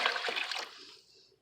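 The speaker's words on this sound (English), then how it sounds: "now that's 3 cups of boiling hot water." Boiling hot water splashes loudly into a preheated crock pot in a brief rushing pour that quickly fades to a faint trickle.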